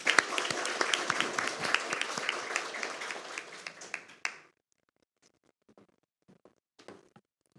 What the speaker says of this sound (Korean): 큰 박수로 인사를 해주시면 고맙겠습니다